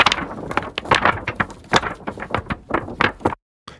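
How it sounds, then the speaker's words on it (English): Paper cardstock handled and flexed close to the microphone, a dense run of crisp crackles and rustling bursts in uneven rhythm, loud and alone, ending in a sudden silence. "this first one was a paper cardstock handling sound"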